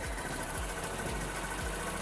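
A Honda Click Fi V scooter engine idles quietly with clean running, a steady low thrumming pulse with regular soft beats, close and unbroken.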